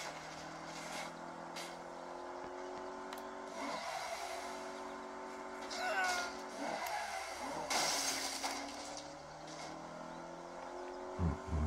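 A car drifting in Saints Row: a steady, fairly quiet engine drone with a few rising tire squeals as it slides through turns.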